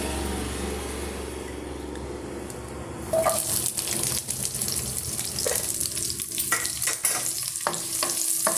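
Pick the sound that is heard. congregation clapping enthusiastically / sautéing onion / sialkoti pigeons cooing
sautéing onion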